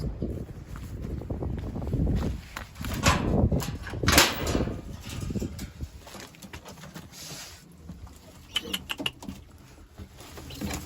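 Domestic flying pigeons, including a young blue bird, are let out of their loft outdoors; wing flutters and bird sounds come through heavy gusting wind rumble on the microphone, louder early and then easing.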